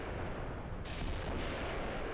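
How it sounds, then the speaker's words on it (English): Artillery explosion in the Mius Front war video game, a deep sustained rumbling blast that fills the whole clip, with a second swell partway through, heavy and distant-sounding. "Very big explosion."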